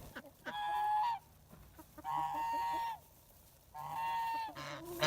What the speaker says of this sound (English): The ducks are cold.